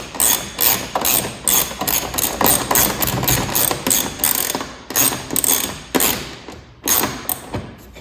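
A ratchet snugs up bolts on fender flares of a Segway Villain SX10, its rapid pawl clicks coming in repeated bursts with brief pauses. The clicking sounds close and loud, with nobody talking.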